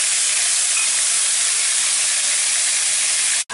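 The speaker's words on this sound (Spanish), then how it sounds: "en el mismo aceite que nos queda en la sartén de haber frito lo que es las patatas, vamos a poner los tres tomates rallados" Three grated tomatoes hit a frying pan of hot oil left over from frying potatoes, giving a loud, steady hiss that holds unbroken for several seconds before cutting off abruptly.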